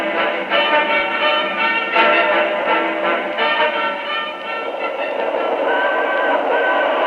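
Radio-drama sound effect of a limited express train speeding along the rails at night, a loud, continuous rumbling roar with rhythmic clickety-clack beats and no voices over it.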